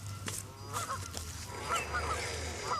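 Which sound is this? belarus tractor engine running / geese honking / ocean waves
geese honking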